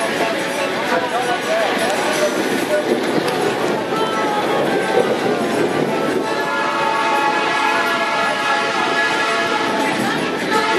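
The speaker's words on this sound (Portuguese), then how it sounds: "Berrando forte aqui no trecho a locomotiva 9380, com destino aí a Sabaúna." Locomotive 9380 hauls a train along a Brazilian railway line toward Sabaúna, passing a level crossing with a loud, continuous close-up rumble and clatter of wheels and cars that fills the whole stretch.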